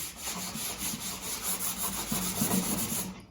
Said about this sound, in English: bedside table, scuff sanding, and watch. It is still going. It is still bringing the varnish.